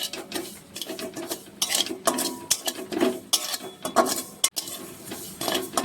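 Dry fenugreek seeds roasting in a pan as a spoon scrapes and stirs them, giving repeated close metallic scraping and rattling strokes in an irregular rhythm, with no talk.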